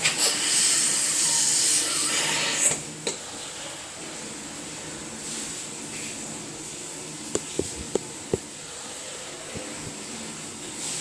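Steam hisses loudly from a puttu steamer on the stove for about three seconds, then fades to a faint background hiss broken by a few sharp kitchen clicks and taps, with no talking.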